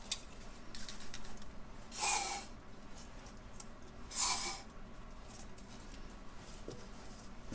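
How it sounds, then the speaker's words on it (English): WD-40 sprayed into two cups for an acrylic pour painting: two short, sharp hissing bursts a couple of seconds apart, close and clear over a quiet room. "And I'll spray them first with the WD-40."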